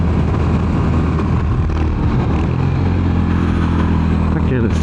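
Royal Enfield Hunter 350 single-cylinder motorcycle pulling uphill in third gear, a steady close engine drone with wind rush that holds level for several seconds, with a rider's voice over it.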